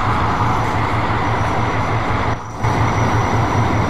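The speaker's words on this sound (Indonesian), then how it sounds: "Oh, kereta api kita teman-teman, widih, gagah banget ya" A locomotive rolls slowly during shunting to evacuate the KA Pandalungan train, giving a loud, close, steady rumble with a rhythmic low throb and a brief dip midway.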